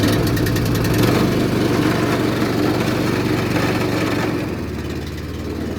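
A Mo Flow pressure washing rig's engine runs loud and steady at high speed, then drops to a lower, calmer drone near the end as it is throttled down. No one speaks.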